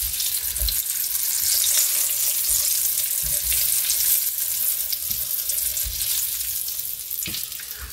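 Breaded shrimp fry in a pan with a constant bright sizzling hiss and occasional soft bumps and crackles, close and steady throughout, no talking.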